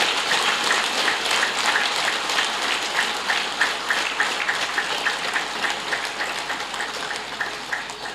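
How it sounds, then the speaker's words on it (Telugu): An audience at a meditation teaching gathering claps loudly, a dense continuous rattle of many hands that holds steady throughout with slight surges. "గట్టిగా చప్పట్లు కొడతాం"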